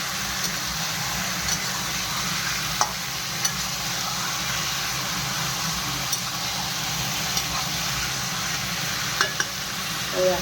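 Meat frying in oil, a steady, even sizzling hiss with a low background rumble and a few faint spoon clicks, close and continuous with no voices.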